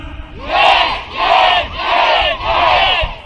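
A large congregation shouts loudly in unison, four sustained bursts in a rhythmic sequence, close and powerful.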